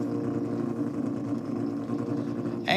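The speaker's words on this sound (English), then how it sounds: "angry rattling of Anth D'Aquino's incredible 13B turbo" A 13B turbo rotary drag race car engine at a drag racing event, a steady rattling, burbling idle heard from a moderate distance with faint commentary in the background.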